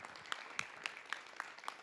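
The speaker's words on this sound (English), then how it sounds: "Let's give Basil one more round of applause." Audience applause after a talk at a community nature event, heard as sparse, evenly spaced sharp claps from a small group at a brisk steady rhythm, fairly close and without voices.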